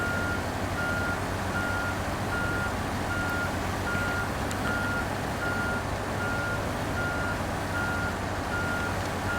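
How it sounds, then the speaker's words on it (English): Steady reversing beeps from a truck in the Snowrunner driving game, evenly spaced pulses repeating throughout over a constant low engine rumble, no talking. "Let's just reverse this back out of the way."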